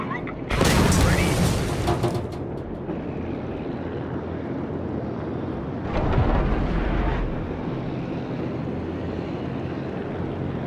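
Bomber aircraft in World of Warships: a steady loud engine drone throughout, with two louder surges of rushing roar and blasts layered over the continuous rumble.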